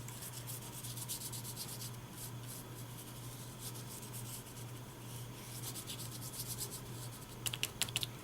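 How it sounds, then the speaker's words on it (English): A fingertip scrubs loose glitter across a Stampin' Up A2-size card, making a steady close, soft rubbing and scratching that runs throughout over a faint hum, with a few sharper scratches near the end. "just use your finger and kind of scrub it around with your finger to spread the glitter"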